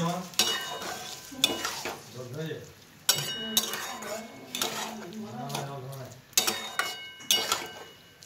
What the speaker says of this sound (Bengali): এবার গ্যাসটাকে আমি জ্বালালাম, জ্বালিয়ে পুরো মশলাটা ভালো করে মাখিয়ে দিয়ে